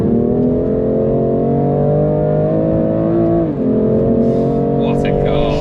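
Loud steady engine drone from a BMW M2 at speed on a race track, pitch climbing then dipping briefly with a gearchange before pulling on, with a voice speaking near the end.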